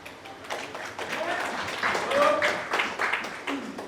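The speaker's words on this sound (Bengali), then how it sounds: "হাততালি তো দিলে" An audience claps in applause at a political speech on a proposed two-chamber parliament, a dense patter of hands that rises and falls over about four seconds, mixed with voices.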